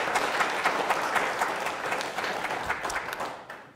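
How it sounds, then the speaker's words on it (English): A church congregation applauds as children leave the service: a full room of steady, moderately loud clapping that gradually thins and fades out toward the end. "Can we clap for them one more time as they leave?"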